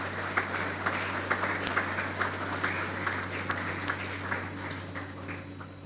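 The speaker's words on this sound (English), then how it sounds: "Let's give them a round of applause, gentlemen." At a St Mary's College graduation ceremony, an indoor crowd gives steady, dense applause with sharp individual claps standing out, holding even throughout and easing slightly at the end.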